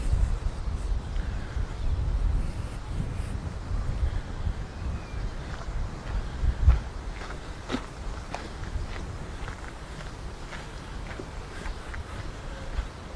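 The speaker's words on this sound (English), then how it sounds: "there is a gust of wind blowing through" Wind gusts buffet an outdoor microphone near a gated-off site, giving a low, rumbling roar that is strongest early and then eases, with a few scattered knocks and crackles.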